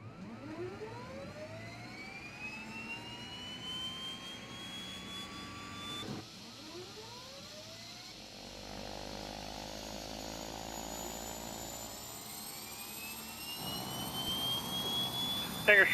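Turboprop engines of an Embraer 120 starting in the Prepar3d flight simulator: whines rising steeply in pitch as each engine spools up, one start and then another, settling into a steady drone with quieter hum between, the sound building near the end.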